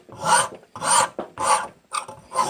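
Repeated rasping strokes of a finer rasp on a wooden knife blade, five rhythmic back-and-forth passes, close and alone.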